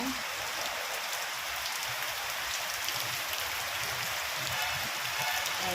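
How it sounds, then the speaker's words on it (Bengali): Heavy rain pours down steadily around a house during a thunderstorm, a dense, loud, unbroken hiss of falling drops and splashing from start to end, with no voices. "আমাদের বাড়ির অবস্থাটা দেখো কেমন বৃষ্টি পড়ছে"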